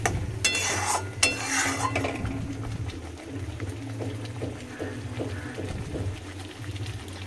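Spices fry in a pan with a soft, low sizzle and occasional clinks and scrapes of a utensil, quiet and close, with no speech.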